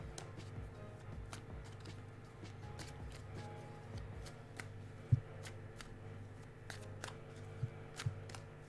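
Tarot cards shuffled by hand, a quiet, close run of soft riffling and flicking bursts with a few sharper slaps, and no talking.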